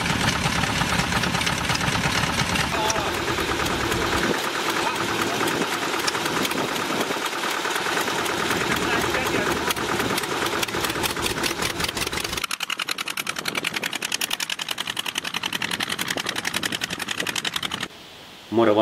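An old Zetor tractor engine idles at a lakeside cottage in Kuhmalahti, with a steady, rapid mechanical chugging and clatter up close that runs throughout and drops out briefly near the end.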